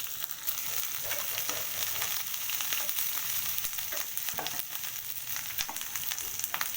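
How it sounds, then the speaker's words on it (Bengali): Chicken pieces for chili chicken fry in a pan, giving a steady close sizzle and crackle with light stirring and no talk. "আমি এগুলো একটু ভেজে নিচ্ছি"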